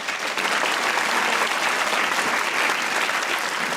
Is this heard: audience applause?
yes